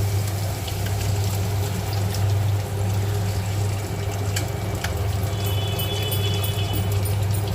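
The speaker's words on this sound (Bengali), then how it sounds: "জল দিয়ে দেবো।" Water is poured into a cooking pot of salted broth for a fish curry, a continuous, steady rushing splash that stays at an even level throughout, close by and with no talk.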